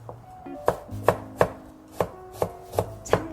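A knife chops washed bellflower root (doraji) finely for wine-making, striking a cutting board in a steady series of about eight crisp, close chops with nothing else heard.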